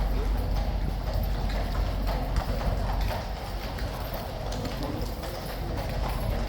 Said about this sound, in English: Clippy clop in the tunnel.